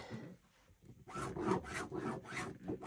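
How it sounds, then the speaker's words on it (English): A heat-erasing pen is drawn across quilting fabric along a ruler: after a quiet start, about five close, scratchy strokes follow in a steady rhythm. "I'm drawing right on my fabric with my heat erasing pen."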